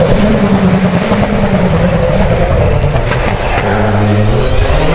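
A rally car competing in an FIA EHRC stage at the Rallye d'Antibes brakes hard. A loud, dense engine roar and rumble continue throughout, with shifting tones as it slows nearby.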